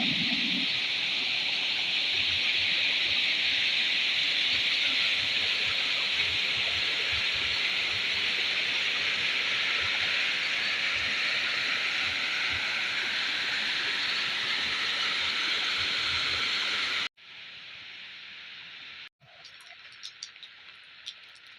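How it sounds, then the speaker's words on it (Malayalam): Waterfall and rushing stream water in full flow, a loud, dense, continuous roar that fills the first seventeen seconds, then cuts to quieter ambient sections with faint clicks and no talk. "വെള്ളത്തിന് നല്ല ഒച്ചപ്പുണ്ട്."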